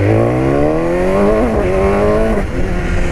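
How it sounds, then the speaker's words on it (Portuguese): A BMW S1000R naked motorcycle fitted with an Atalla header and Akrapovic exhaust revs hard and loud close by, its engine pitch climbing steadily through acceleration with a brief dip near the end, no talking. "Uma BMW Naked. Um coletor Atalla. E ponteira Akrapovic."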